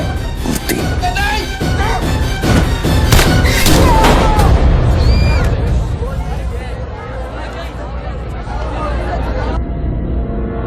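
Gunshots ring out in a Hindi film scene: loud booming shots in quick succession over shouting and crowd babble, then a tense din of voices that carries on as the firing stops.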